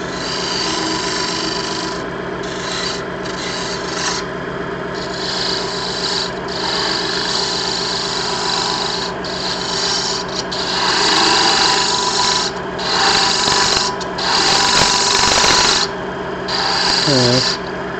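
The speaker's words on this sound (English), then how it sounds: "So we'll try this spindle gouge." A spindle gouge cuts into a red oak firewood bowl spinning on a wood lathe, giving a continuous rough scraping and shaving drone with a steady motor hum, the cut surging louder in bursts toward the end, close and prominent.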